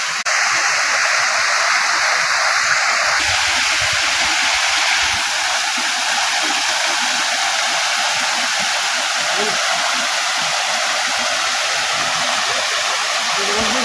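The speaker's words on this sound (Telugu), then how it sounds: "ఇదే జలపాతం. అంత అద్భుతంగా ఉంటుంది." Steady, loud broadband rush of a forest waterfall at Sanipaya Kona near Rayachoti, continuous and close, with no other sounds standing out.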